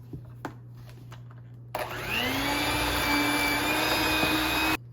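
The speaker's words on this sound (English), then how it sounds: "Put in there 1 cup of granulated sugar, and we're gonna cream this up right quick." An electric mixer creams butter with a cup of granulated sugar, starting abruptly after a few soft knocks and then whirring loudly at a steady pitch for about three seconds before cutting off sharply.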